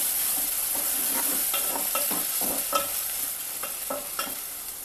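Rice in a hot pan being stirred with chopped coriander, mint and green chillies, a continuous sizzle with repeated scraping and clattering strokes of a spoon, close and steady, no voices.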